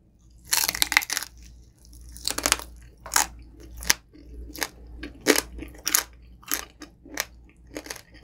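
Crispy Filipino pork belly roll lechon is bitten and chewed up close, with a run of loud, distinct crunches coming in an irregular rhythm over a quiet background.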